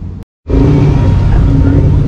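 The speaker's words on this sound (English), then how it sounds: "Bunch of cars coming in." Several cars rolling into an evening car meet in Jacksonville, a steady loud rumble of engines and tires close by after a brief cutout, with voices in the crowd mixed in.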